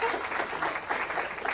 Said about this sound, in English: I think your demonstration needs a round of applause